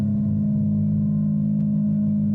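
A sustained, droning synthesizer tone from a Befaco Oneiroi Eurorack module hums steadily through its reverb, with a washy, reverberant tail, low and continuous without pauses.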